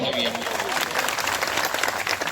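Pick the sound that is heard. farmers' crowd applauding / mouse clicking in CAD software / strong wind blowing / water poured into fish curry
farmers' crowd applauding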